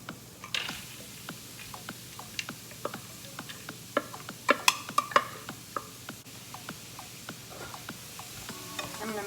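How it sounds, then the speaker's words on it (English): Taco meat mixture is added to a frying pan and stirred, giving a soft background sizzle under scattered scraping and clicking spoon taps, fairly quiet and close. "I'm gonna go ahead and add our meat mixture to the pan."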